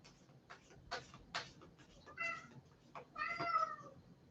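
A cat with convulsions and special needs meows several times indoors. The calls are soft and fairly close, some short and some drawn out, with faint background noise between them.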